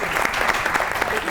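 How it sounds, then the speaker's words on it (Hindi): A studio audience at a comedy talk show breaks into brisk, dense applause, loud and close, with voices mixed in under the clapping. "ताली होनी चाहिए इनके लिए।"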